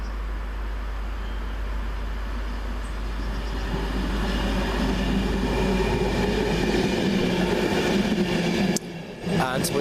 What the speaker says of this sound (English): Here comes our train